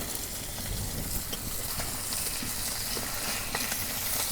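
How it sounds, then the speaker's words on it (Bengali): Small fish frying in hot oil for a village-style curry give off a steady, close, bright sizzle with faint crackles throughout and no voices. "একেবারে ভালো করে মাছ ভাজা নিলাম"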